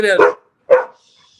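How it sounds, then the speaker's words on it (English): A dog barks twice close by, loud sharp woofs about half a second apart, followed by quiet. "If people can't handle dogs barking, they'll deal with it."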